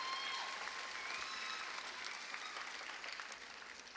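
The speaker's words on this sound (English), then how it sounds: "Let's give them another round of applause, please." Steady, soft applause from an audience at a school moving-up ceremony for sixth and seventh grade musical theater students, an even wash of clapping heard from a distance throughout.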